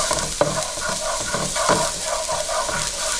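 Garlic sizzles steadily in a hot pan over medium-high heat for seafood pan-fried noodles, with a few sharp scrapes and clinks of stirring, close and continuous with no talk.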